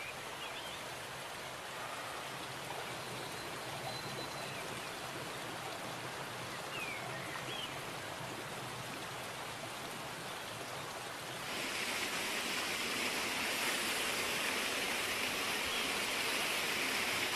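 Steady rushing water from a waterfall in a forest, a dense, continuous roar that grows slightly louder and brighter partway through, with no voices.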